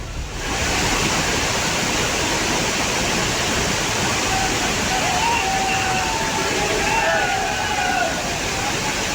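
The waterfall at Bhadaiya Kund in Shivpuri roars as a loud, continuous rush of churning water that holds steady and fills the whole scene, with faint voices barely showing under the torrent.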